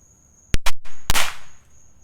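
Firecrackers going off close by in quick succession, two sharp cracks then a third louder bang with a brief rushing tail, followed by quiet.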